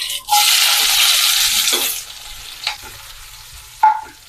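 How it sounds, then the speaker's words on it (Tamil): Onion frying in oil for egg biryani, a loud bright sizzle at the start that fades, broken by a few scraping stirs and clinks of a utensil against the pan. "வெங்காயம் நல்லா செவந்து வறுத்து வரட்டும்."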